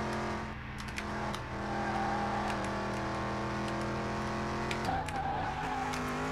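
A V8 car engine in a racing video game drones steadily and loud throughout, its harmonic hum rising slightly as the car accelerates, with brief tire scuffs near the start and end.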